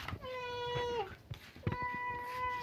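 A hungry pet cat meows up close, giving two drawn-out, tonal meows with a falling pitch at the end, while someone talks softly in the background.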